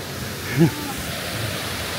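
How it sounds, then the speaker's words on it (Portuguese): Waterfalls at Fervença pour in a constant broad roar, loud and steady throughout, with a brief human call rising faintly above the rushing water. "Quem diria que havia estas cascatas aqui?"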